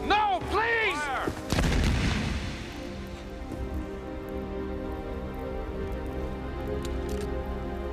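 A firing squad's rifle volley: a sharp, loud crack near the start, followed by a second burst and a decaying rumble, then a long quiet tail of patter and ambient noise.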